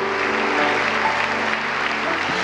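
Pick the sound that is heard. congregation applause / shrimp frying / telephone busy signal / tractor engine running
congregation applause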